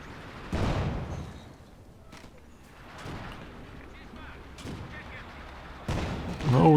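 Machine gun fire and explosions in Company of Heroes 2, with scattered heavy bursts and booming impacts at irregular intervals under a commentator's voice.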